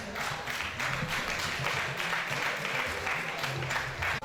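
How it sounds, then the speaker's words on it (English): A crowd applauds steadily throughout an award presentation at a staff association workshop, a dense wash of clapping at moderate distance with faint voices mixed underneath. "A round of applause."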